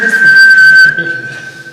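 A person whistles a single sustained high note inside the Drakelow Tunnels, loud and close, fading somewhat toward the end.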